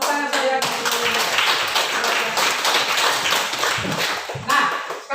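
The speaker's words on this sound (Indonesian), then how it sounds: "Tepuk tangan saya." A classroom full of students claps their hands in a dense, sustained round of tapping that fills the whole stretch, with a few sharper individual claps standing out near the end.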